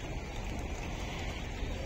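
Steady, dense rain falls during Cyclone Montha on a rooftop garden of potted plants, a constant close hiss of drops on leaves and surfaces with no talk.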